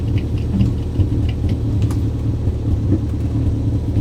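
An old car driving along, heard from the back seat with the rear window down: a steady low engine and road rumble with wind, continuous and fairly loud.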